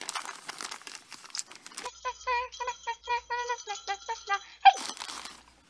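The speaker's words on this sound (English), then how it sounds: "You're gonna take this tape like such and take a big piece." Wrapping paper crinkles and rustles up close while a present is wrapped. Tape is then pulled off the roll in a run of short, squeaky bursts, ending in one sharp snap.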